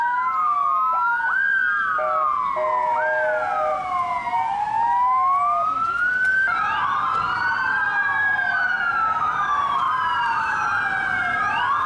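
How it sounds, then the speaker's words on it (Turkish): Police motorcycle sirens wail and yelp continuously as paired officers tour the main streets of İskenderun during a youth celebration, several overlapping siren tones sweeping up and down, loud and close throughout. "İkişer kişilik motorize Yunus ekipleri ellerinde bayraklarla sahilden başlayarak kentin ana caddelerinde siren çalarak tur attı"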